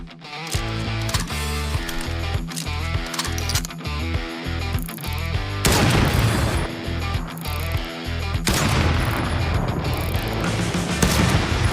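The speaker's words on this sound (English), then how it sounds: "A robot runs around the arena, picks up ammunition, reloads under fire and changes weapon to finish off the enemy." An indie video game robot fight in an arena, with rapid gunfire, heavy explosive blasts and mechanical clanks of reloading and weapon switching. The sounds are loud and dense, and no one speaks.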